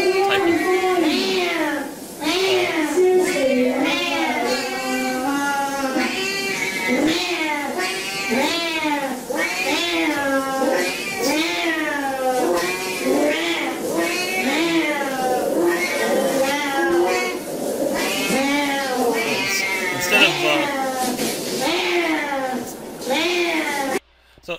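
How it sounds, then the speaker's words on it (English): Siamese cats meow loudly and close by in a long, continuous series of drawn-out, wavering yowls that overlap one another. "And here's different breed of cats. These are some Siamese cats have a very different type of"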